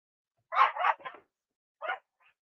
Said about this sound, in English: You hear her barking?